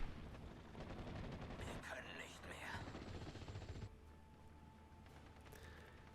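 Rifle squad gunfire aimed at a mortar position in a World War II battle video game, a dense rattle of rapid shots that is fairly quiet and runs under a speaking voice before thinning out into quieter battle noise.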